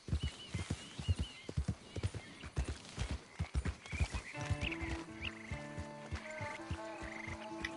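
Horse hooves clip-clop in a steady trotting rhythm in Red Dead Redemption 2, close and clear, joined by a whinny, with game music rising in the second half.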